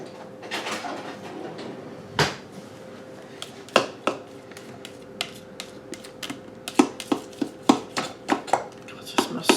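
Spatula scraping down salsa ingredients inside a blender jar, a string of sharp clacks and taps against the container, quickening toward the end over a steady low hum.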